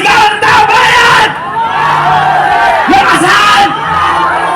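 A protest crowd shouts a chant together against the president Marcos at an evening rally, loud and close, in rhythmic bursts of massed yelling and whooping.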